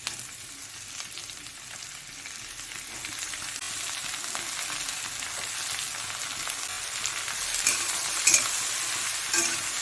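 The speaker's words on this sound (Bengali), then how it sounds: "দিয়ে একটু ভালো করে ভেজে নেব।" Sliced ridge gourd sizzles and crackles in a hot pan, a steady frying hiss with a few louder pops near the end, no voices.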